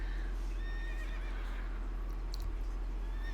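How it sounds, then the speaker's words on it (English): Frightened horses whinny in World of Warcraft's Escape from Durnholde in the Caverns of Time: faint, thin neighs over a steady low hum of game ambience, with a brief sharper sound near the end. "all of a sudden the horses get frightened and Thrall tries to quiet them down"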